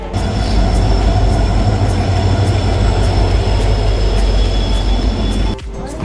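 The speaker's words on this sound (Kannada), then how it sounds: "I am in railway station." A train rumbles loudly at a railway station in Madgaon, Goa, a heavy continuous roar with rhythmic wheel clatter and faint high squeals, dropping away abruptly near the end.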